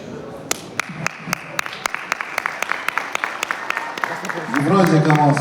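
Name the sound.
audience applauding a team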